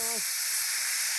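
A pressure cooker set on three bricks whistles, releasing a loud, steady high-pitched hiss of steam continuously, following a brief voice at the very start.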